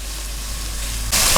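Chopped onion sautéing in a pan: a brief, steady frying hiss with a low hum underneath, rising abruptly louder near the end.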